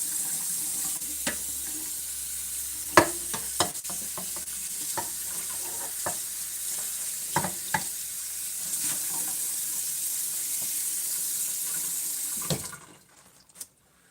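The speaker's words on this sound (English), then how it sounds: "Well, I'm just going to rinse it, actually. It's just liver." Tap water runs steadily into a sink while raw liver is rinsed, with scattered clinks and knocks over the flow; the stream cuts off near the end, leaving near silence.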